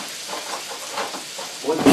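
Spaghetti hits a skillet with pork fat after the heat is turned off, giving a soft, steady sizzle and hiss with faint stirring scrapes that grow slightly louder at the end.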